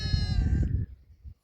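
A goat near a public footpath gives a loud, wavering bleat lasting under a second, close by, followed by faint outdoor rustle.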